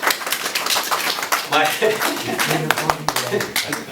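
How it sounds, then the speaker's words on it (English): Audience applause at a first aid training session: a dense patter of many hands clapping continues steadily throughout, with a voice speaking over it. "Give me a big round of applause, everyone."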